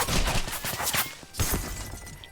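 Rifle fire in a robot fighting video game, rapid loud bursts of shots close together, a pause, then another volley, with no talk over it.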